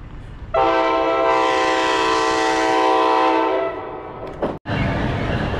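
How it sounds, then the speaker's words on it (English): A loud, close New Jersey Transit commuter train horn at Hazlet station holds one long steady blast for several seconds, then cuts off, leaving the rumble of the passing train. "That is a loud horn."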